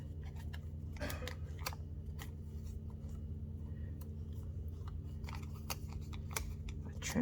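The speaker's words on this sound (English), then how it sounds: "I'll trim that corner down" Scissors snip and trim paper corners, a series of short, crisp cuts and rustles spaced irregularly over a steady low room hum, close and fairly faint.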